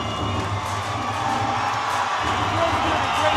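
A crowd at an MMA fight cheers and roars steadily throughout, a dense, continuous wash of voices with whoops and no single talker standing out.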